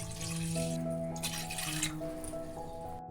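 Water runs steadily into a pan holding rice flour, a continuous trickling, splashing flow, fairly close and moderately loud, with no one speaking.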